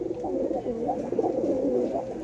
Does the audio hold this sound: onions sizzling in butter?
no